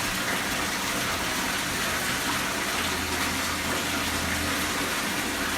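Water gushing from drill holes in an underground mine, a loud steady rushing hiss that runs unbroken throughout, with a faint low hum joining partway through.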